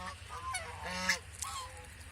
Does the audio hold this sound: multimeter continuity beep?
no